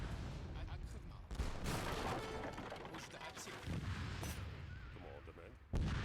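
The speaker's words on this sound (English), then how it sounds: "Cannon is still coming in." Cannon and artillery fire in Age of Empires III during a Caribbean raid battle, with repeated heavy booms and crackling gunfire layered under a speaking voice throughout.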